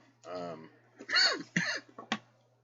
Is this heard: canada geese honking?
no